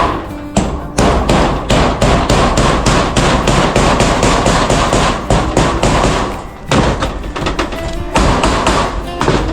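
Rapid, loud hammer blows on corrugated metal roofing sheets being fixed onto a roof, a dense steady run of sharp metallic strikes with a brief pause partway through.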